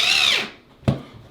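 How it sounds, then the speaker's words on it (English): A power drill spins with a high whine that winds down as a drywall screw seats into wood for a rustic coat rack, followed by a single close knock, all in a brief, close burst. "Turn your drill down to the lowest setting."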